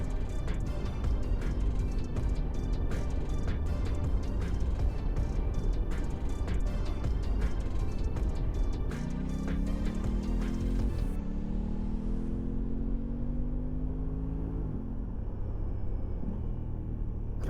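2023 Aprilia RS 660 motorcycle on the move, a steady loud engine drone with wind rumble throughout, then rising and falling gear-change sweeps in the second half as the rider accelerates and shifts.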